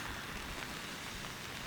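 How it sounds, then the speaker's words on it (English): Rain patters softly down in an ancient forest in Iran, a faint, even hiss of drops falling on leaves and ground, continuous and distant-sounding with no voices. "As rain patters down"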